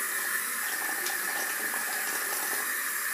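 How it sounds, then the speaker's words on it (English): Tap water runs steadily into a sink while a DIY face scrub is rinsed off, a constant, even splashing stream heard alone at moderate volume. "as I'm rinsing off, I'm kind of rinsing it in big circles"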